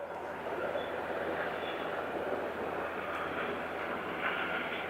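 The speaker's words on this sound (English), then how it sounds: "To me it sounds like a helicopter." A helicopter at Aberdeen Airport heard from a distance as a faint, steady rotor-and-engine drone that holds evenly throughout, low and indistinct beneath the open-air background.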